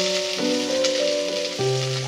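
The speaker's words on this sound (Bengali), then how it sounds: "করলাগুলো একটু ভেজে তারপর আমি সবজিটা দিয়ে করব" Bitter gourd pieces fry in hot oil for Bengali shukto, giving a loud, steady sizzle that runs without a break and has faint stirring under it.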